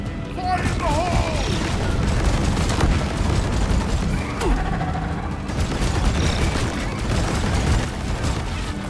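Grenade explosions during a solo Elite Deep Dive in Deep Rock Galactic: loud booming blasts and rumbling debris in a dense cave fight, with speech over part of it.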